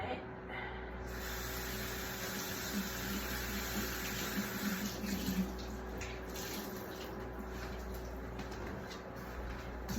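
Water sprays steadily in a continuous hiss onto something close by, with a low background hum underneath.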